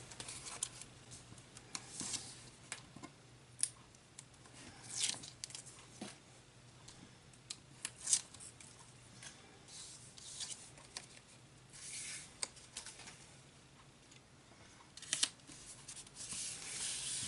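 Card paper overage is trimmed during card making, producing faint, close scissor snips and papery rustles scattered through a quiet stretch over a low steady hum.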